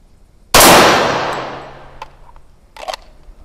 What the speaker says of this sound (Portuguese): eu vou sacar e realizar um disparo